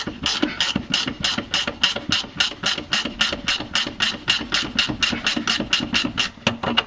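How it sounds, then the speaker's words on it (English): A hand ratchet loosens a nut on the fuel tank of a Jeep Cherokee XJ, its pawl clicking in a fast, steady rhythm of sharp close ticks throughout, with short strokes repeating evenly. "you don't have to remove this nut completely, just enough to get it loose enough"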